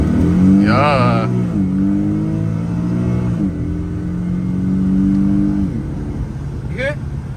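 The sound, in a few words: Infiniti G37 sedan exhaust with resonated test pipes revving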